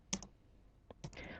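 Typing on a computer keyboard while entering text into point-of-sale billing software: a few sharp, close key clicks, an isolated tap, then a quick cluster of keystrokes, with no speech over them.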